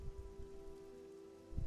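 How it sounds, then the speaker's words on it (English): Rain falling around a stone obelisk in a tabletop fantasy setting, a soft, steady patter under a low tonal drone, quiet and continuous. "As the rain is kind of coming around the obelisk"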